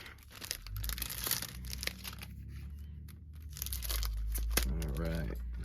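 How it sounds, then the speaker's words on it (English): Crinkling and tearing of a music CD's plastic packaging being opened by hand, close and fairly loud, with bursts of crackle and rustle, and a voice speaking near the end. "I just realized y'all probably want to see me actually open up the CD too."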